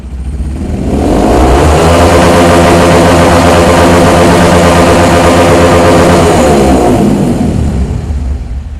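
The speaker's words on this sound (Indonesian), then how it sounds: "Jadi kita gas motornya. Kita gas full." A motorcycle engine fitted with a Juken 5 auto-mapping ECU revs at full throttle, a loud sustained roar that swells up within the first second, holds steady for several seconds, then eases off near the end, with no talking.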